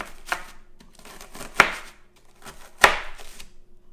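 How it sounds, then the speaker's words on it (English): A thin spatula cuts through a tray of baked gluten-free granola, giving several dry, crisp crunches, two of them sharp and loud, with softer crackles and scrapes between them. "the way you check to see if this is done is to cut it. I have this thin spatula that works really well"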